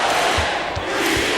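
An arena crowd roars steadily at an NBA 2K25 basketball game, a dense, loud wall of cheering and shouting with a few low thumps underneath.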